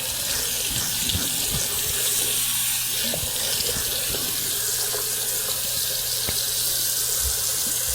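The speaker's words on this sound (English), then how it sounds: "So we have some warm water running." Warm water runs steadily from a bathroom tap into a sink before a safety razor shave, a constant close hiss and splash with small irregular drips and clinks throughout.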